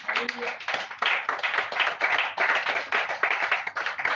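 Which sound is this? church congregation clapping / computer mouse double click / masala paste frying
church congregation clapping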